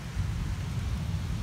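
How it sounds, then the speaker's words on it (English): Thunder during an autumn storm: a deep, sustained low rumble that rolls steadily through the whole moment, with no voice over it. "that's some nice boom of thunder."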